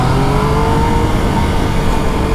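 A 2017 Yamaha MT-09 (FZ-09) motorcycle engine pulling hard in first gear, a loud, close, continuous rising engine tone with no gaps and no talk.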